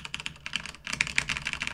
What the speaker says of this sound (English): I actually have a new mechanical keyboard,